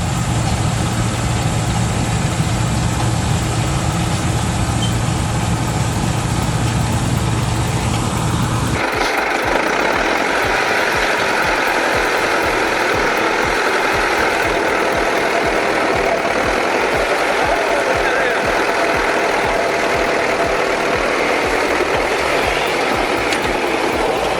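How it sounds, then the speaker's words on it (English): A harvester engine runs at full throttle while harvesting chickpeas, a loud, steady droning roar that holds for the whole stretch, its tone shifting partway through. "it's just a chickpea harvest going full throttle"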